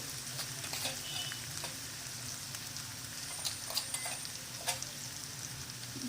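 Spiced dal and onion mixture frying in a pan, a steady close crackling sizzle with scattered pops and stirring scrapes throughout, no talking.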